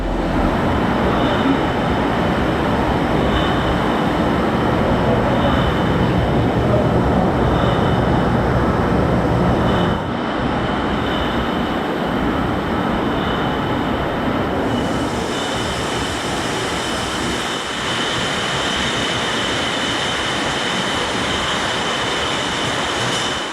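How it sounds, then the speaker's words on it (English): A Pilsner Urquell bottling line at the brewery in Pilsen runs in a large hall, a constant loud mechanical roar with rattling and clinking as bottles are cleaned and filled, steady throughout. "In this hall, bottles are cleaned, inspected, filled, and labeled to be distributed all over the world."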